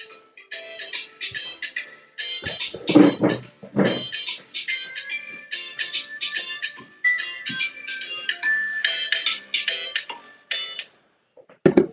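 A mobile phone rings during a podcast conversation. A melodic ringtone of bright beeping tones repeats for several seconds, loud and close, with brief breaks between the phrases.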